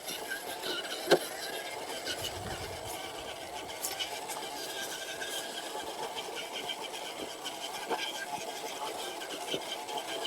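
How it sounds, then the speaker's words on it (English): A budget flatrail RC truck with a 16-turn motor driven at full throttle over rocks, giving a continuous thin motor whine with scraping and rattling, fairly faint and steady. "That's full throttle on this 16-turn motor."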